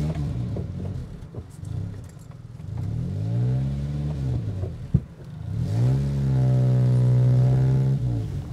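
A 50 hp Simca compact family car engine revs up twice, each rising pitch held loud and steady close by, with a brief knock between the two pulls.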